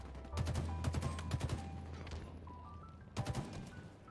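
Gunfire in a video game match, with a rapid burst of shots followed by a pause and another short burst, moderately loud against a low rumble and no talk.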